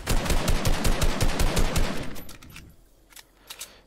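Rapid automatic gunfire from a Fortnite battle rattles in a loud, dense stream for a couple of seconds, then trails off into a few scattered, more distant shots.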